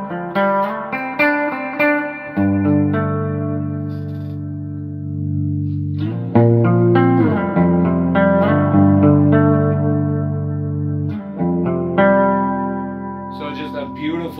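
Clean electric guitar through an Orange Super Crush amp with a touch of the amp's built-in reverb, sustained chords and ringing notes played steadily and fairly loud, with no voices over the playing.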